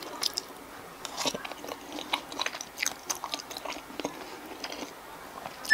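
Close, crisp chewing of Mr. Pizza sweet potato pizza crust dipped in sauce, with irregular crunchy bites and soft mouth sounds, loud and intimate against a quiet background.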